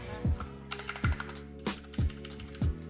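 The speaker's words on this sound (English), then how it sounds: "I see it's more silent than usual. Okay, so yeah, this is a keyboard." A Ducky One 2 Mini keyboard is typed on in a handful of distinct, fairly quiet clacks with pauses between them, close up and without speech.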